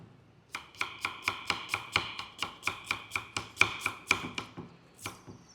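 A knife chops a red onion finely on a board, a steady run of about twenty crisp, evenly spaced cuts close up, with a short pause near the end and no one speaking.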